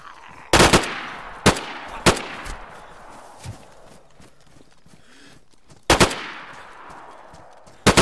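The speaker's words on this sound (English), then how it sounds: "Yeah, that was me shooting." Gunfire in the video game DayZ at a prison in Livonia: sharp, loud single shots spaced irregularly, several isolated cracks and a quick double shot, each with a short echoing tail.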